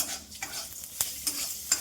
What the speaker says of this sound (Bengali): এখানে কুমড়ো বীজ ভাজা চলছে